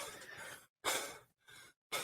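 Heavy, winded breathing as if after a long hike, three loud breathy exhales separated by short silences, a fourth starting at the end, close and alone.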